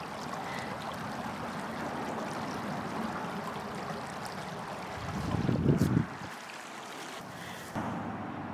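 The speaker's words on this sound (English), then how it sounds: "You can hear the water rippling by." Water rippling along a stream outdoors in winter, a continuous broadband wash with gusty wind buffeting the microphone and a brief louder rumble partway through.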